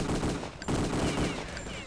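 Gunfire in Return to Castle Wolfenstein during a competitive 6on6 match on a snowy map: dense rapid automatic bursts, loud and close, with a brief pause before the firing resumes.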